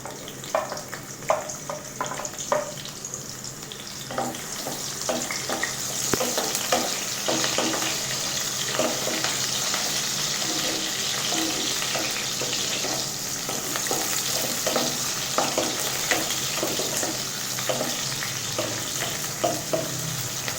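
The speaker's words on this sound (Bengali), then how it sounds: "জিরাটা ফুটে উঠছে, আমি এখন এর ভিতর পেঁয়াজটা দিয়ে নিচ্ছি।" Onions and cumin seeds frying in oil give a close, steady sizzle and crackle, broken by frequent clicks and scrapes of stirring for about twenty seconds, with no voices.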